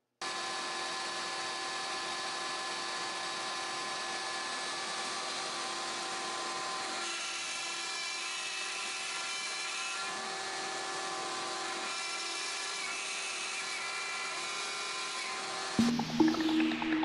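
A CNC router runs a cutting job alongside a shop vac, a steady loud whine and roar holding for the whole stretch, shifting pitch slightly as the cut changes, ending in a brief louder burst.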